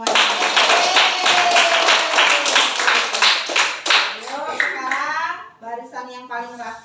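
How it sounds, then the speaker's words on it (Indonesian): Children clap together in a classroom, a brisk burst of hand claps that fades as voices take over and keep talking. "Tepuk tangan untuk kita semuanya"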